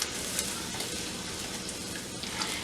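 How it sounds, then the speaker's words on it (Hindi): Chopped onions frying in oil in a pan for kofta, a steady dense sizzle with faint crackles that holds at an even loudness throughout, close up and with no talking. "और अब हम इसको गोल्डन ब्राउन होने तक फ्राई करेंगे प्याज को।"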